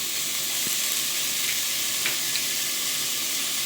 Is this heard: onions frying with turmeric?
yes